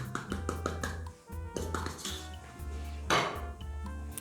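A spoon scrapes and clinks against a bowl while mixing spelt flour with salt for crusty bread rolls: rapid rhythmic tapping, a short pause, then more knocks and a louder scrape, close by with no talking.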